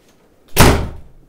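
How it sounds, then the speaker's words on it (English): A door slams shut indoors with one sharp, loud thud that rings and fades quickly, heard alone without talk. "you better say sorry for slamming that door"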